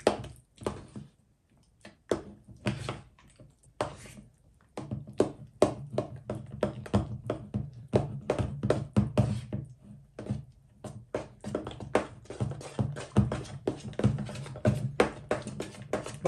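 Strawberry tiramisu ingredients are stirred in a bowl: quick, irregular taps and knocks come in bursts, with short pauses between flurries, close and alone without talk.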